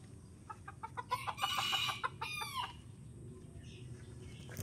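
Chickens cluck nearby in a quick burst of rhythmic clucks and squawks, fading into a low background murmur.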